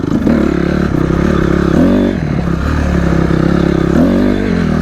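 A motorcycle throttled hard to lift into a wheelie, loud and close, the engine roaring and surging in repeated revs with rattling clatter underneath.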